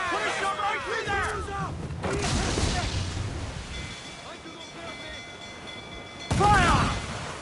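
Ship cannons fire during a naval battle in Assassin's Creed Black Flag, heavy booming blasts and rumbling, with a loud close blast near the end, under shouting and singing voices.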